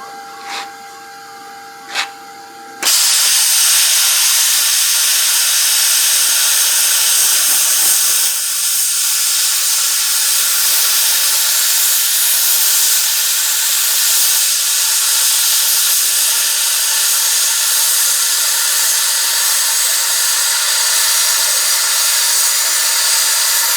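A loud, steady roaring hiss of a YesWelder 65-DS plasma cutter slicing through an old piece of steel railroad track, starting abruptly after a few quiet clicks and continuing unbroken to the end.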